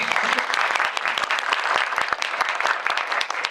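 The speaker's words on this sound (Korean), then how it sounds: "박수 한 번만 부탁드리고요." Applause fills a Seoul cinema during a short-film screening Q&A as an actor arrives, a brisk, close crackle of many hands clapping at once, loud and even throughout.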